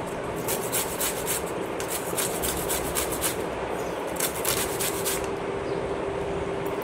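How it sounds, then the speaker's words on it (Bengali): Raw mango rubbed against a hand grater gives a close, steady rasping scrape in quick repeated strokes that continues without a break, with no talking. "এবার এটাকে একটু ঘষে নেব। এটা দিয়ে ঘষলে একদম বেশ ঝিরিঝিরি করে হয় কাঁটাটা।"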